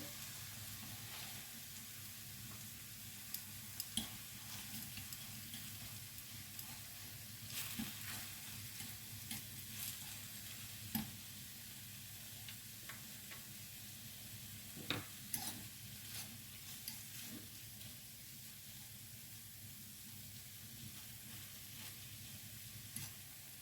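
Meat sizzles steadily in a frying pan while being crushed and stirred, a constant hiss broken by scattered scraping clicks and taps of the utensil against the pan.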